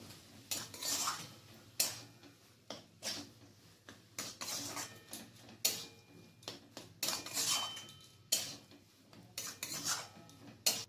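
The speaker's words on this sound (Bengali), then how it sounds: "এরপর আবার আমি ভালো করে মিক্স করে নেব।" Mashed potato filling with garam masala and coriander leaves mixed in a pan, repeated scraping and clinking of a metal spoon against the pan in quick irregular strokes, close and clear in a quiet room.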